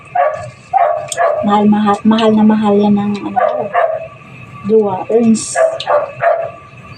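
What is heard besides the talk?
dogs barking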